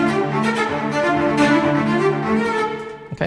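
A MIDI ostinato line of steady sixteenth notes played back in Cubase, sustained tonal layers repeating evenly at a moderate, constant level for about three seconds with no voices over it.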